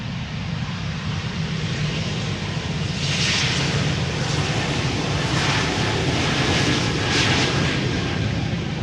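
Airliner engines spooling up to takeoff power on a runway at Amsterdam Schiphol Airport, a steady broad roar that swells slightly and holds, heard from fairly close.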